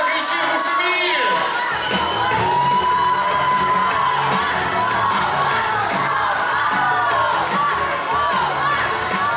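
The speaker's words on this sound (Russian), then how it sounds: "Аплодисменты, давайте покричим, пошумим." A hall crowd at a university Miss and Mister pageant cheers, whoops and shouts loudly and continuously, with music and voices mixed in throughout.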